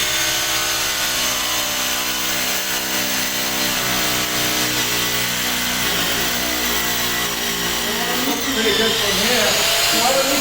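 A power hammer drill with a faulty hammer action spins freely without hammering, giving a loud, steady motor whine with strong harmonics that runs continuously and wavers slightly in pitch near the end.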